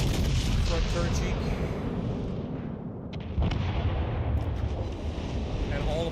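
Warship guns fire shells in the naval combat game World of Warships Legends: loud, continuous rumbling booms with overlapping blasts and a dense roar throughout.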